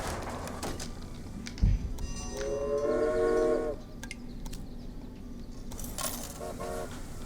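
A freight train hauling meat runs along a track in the railroad-building game Railway Empire, with a rumbling pass, a whistle-like tonal burst in the middle, and scattered metallic clinks, fairly faint.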